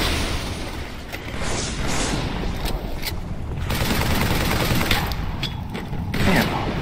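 Battle rifle fire in the zombie game Dying Light comes as a dense, steady stream of sharp shots and mechanical clatter, loud and close, running unbroken over several seconds.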